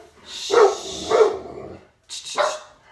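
Dogs bark at someone on the sidewalk in three sharp, close barks, two in quick succession and then a third after a short pause.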